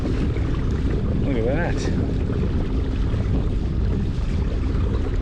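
A kayak cruising under a Watersnake T24 electric trolling motor on a DIY mount, with heavy wind buffeting the microphone and water washing along the hull; someone speaks briefly partway through.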